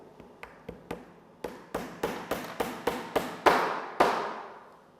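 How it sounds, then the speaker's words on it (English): A hammer drives very fine carpenter's nails into a wooden batten on plywood with about a dozen sharp, close taps. The taps come in quick bursts and grow louder toward the end. "You need hammer and very fine nails are there, which are used normally by a carpenter for fixing this"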